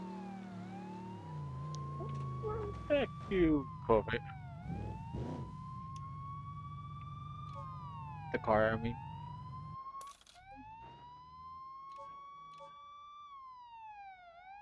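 A police car siren in the driving game BeamNG wails in repeated rising and falling sweeps for most of the stretch, loud and close, while someone talks over it and another car engine drones underneath.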